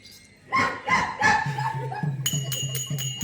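A voice mimics a dog, giving several short barking yelps, followed by a run of rapid higher-pitched yips in a quick rhythm.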